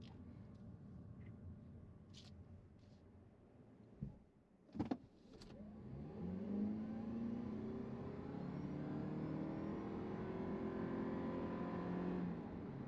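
A 2023 Toyota Prius Prime XSE pulling away in sport mode from 0 to 60, a smooth rising motor and road hum that swells and holds steady after a few brief clicks and thumps.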